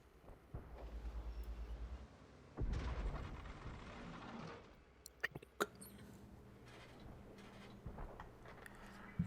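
Tank guns fire in World of Tanks, a heavy booming blast with a rumbling tail followed by engine drone and a few sharper distant cracks, fairly quiet overall.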